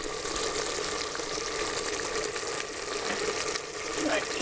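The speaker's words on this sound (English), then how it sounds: "then we'll pour some water in, just enough to cover the meat" Water poured steadily into a pot of meat for Hungarian goulash, making a continuous rushing, splashing flow that stays close and fairly loud for the whole stretch, with no talking.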